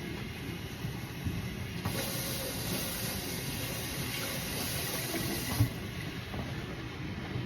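Cucumber washed under a running kitchen tap, a steady broadband rush of water that continues throughout with a slight change in tone partway, close and with no talk.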